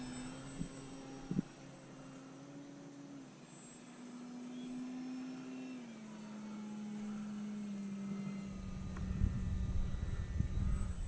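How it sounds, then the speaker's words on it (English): FMS Ranger 1800 RC airplane with takeoff flaps set, its electric motor a steady whine that rises as the plane throttles up for takeoff, ending in a louder rushing surge, no voices. "We're going to take off with takeoff flaps there."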